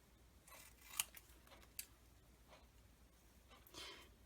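Quiet, close snips of scissors trimming a printed glossy photo, a few sharp cuts spaced apart, with faint rustling of the paper between them.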